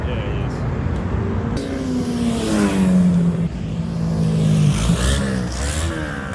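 Loud straight-piped exhaust on a Dakota revs in a private parking lot, a low droning engine note rising and falling in pitch over several seconds beneath ongoing chatter from nearby people.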